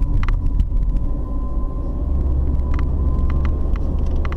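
Car driving along a rough, uneven rural road between Luangwa Market and Luangwa Bridge, a continuous heavy low rumble with scattered rattles and knocks from the bumpy surface, recorded from inside the vehicle.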